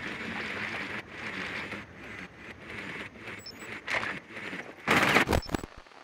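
Gunfire in Rainbow Six Siege, quick bursts of rapid shots in a broken rhythm that build to a louder, denser volley near the end, with no talking.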